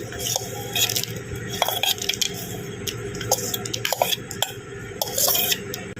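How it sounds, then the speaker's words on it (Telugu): Mint, garlic and tamarind pounded in a stone mortar for a Telugu chutney, giving irregular crunchy knocks and squishing grinds that carry on steadily with no voices. "ఫస్ట్ ఇవన్నీ మనం రోట్లో వేసుకొని దంచుకోవాలి"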